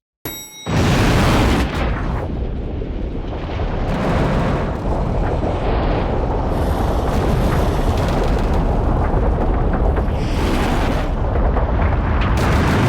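A loud, sustained roaring blast of an elevator explosion in The Matrix rumbles on for many seconds, dense and close, with crackling bursts throughout and no voices.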